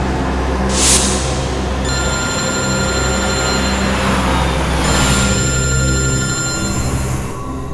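A telephone rings in a tense CID crime drama scene, its repeating electronic bell steady and fairly loud over a dense, humming background, continuing alone without talk.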